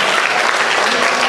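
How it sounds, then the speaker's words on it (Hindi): Sustained audience applause at a school annual function, steady and dense clapping from a crowd filling the whole moment without pause. "एक जोरदार ताली बनता है उन बच्चों के हौसला अफजाई में।"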